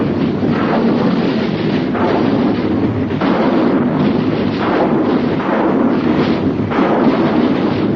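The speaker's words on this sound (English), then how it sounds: "Artillery batteries, fire! Rocket batteries, fire!" Old-time radio drama sound effect of artillery and rocket battery fire, a loud continuous rumbling barrage of muffled booms rolling in waves with no break.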